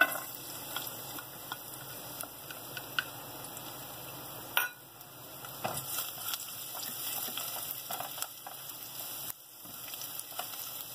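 Garlic frying in a thin drizzle of oil for a chicken pie filling, a faint steady sizzle with soft pops and occasional clicks of a utensil against the pan, no one talking.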